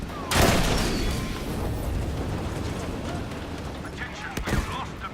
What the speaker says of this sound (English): that's a Panzer that I just got shot with. Not the tank, the rocket launcher.